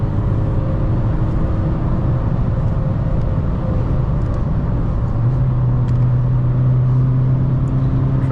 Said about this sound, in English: Now he's on 6 gear. Car drives so perfect.